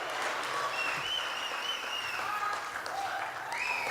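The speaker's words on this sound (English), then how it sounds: "A round of applause, everybody." Guests at a wedding reception break into steady applause that fills the room, with cheering voices and music-like tones over it, continuing throughout.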